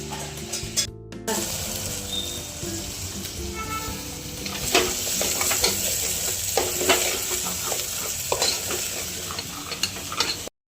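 Ginger-garlic paste sizzles in hot oil with pigeon peas and a cut potato, a steady loud frying crackle across the whole stretch, broken by scraping stirs and spoon clatter.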